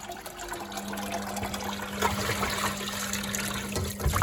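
Water gurgles and rushes steadily as a Candy Grand O Vita washing machine's pump hums at a low, even pitch, close and continuous, with no talking, during a quick wash with towels.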